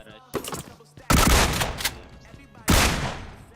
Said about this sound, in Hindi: DBS की साउंड सुनकर भाई डर तो लगता है